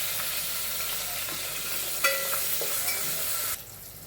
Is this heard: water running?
no